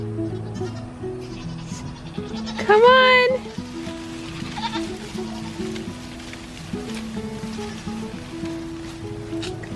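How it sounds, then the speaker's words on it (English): A goat lets out a loud, wavering bleat close by, while a person calls out and a steady patter of background noise continues. "Goats, goats, goats, goats!"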